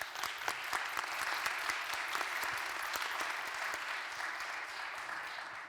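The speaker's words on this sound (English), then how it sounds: "Please receive your applause." Sustained applause from a conference audience at a plenary session, a steady dense wash of clapping with scattered sharper individual claps, holding at even loudness throughout with no talking over it.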